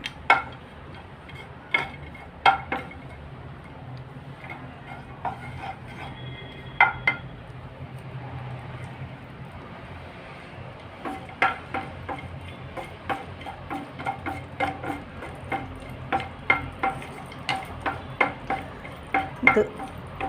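Cashew nuts roast in ghee for rava kesari, with sparse clicking taps of a spoon against the pan and a faint low sizzle, the sharp clinks scattered irregularly and growing more frequent toward the end.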